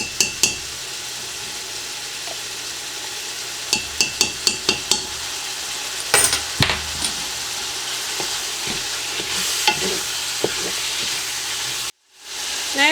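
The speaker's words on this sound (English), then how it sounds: "I'm also going to add a couple tablespoons of minced garlic." Minced garlic sizzling in a pan of hot fat for Southern chili, a steady close hiss with scattered sharp pops and a few utensil clicks, then a brief drop to silence near the end.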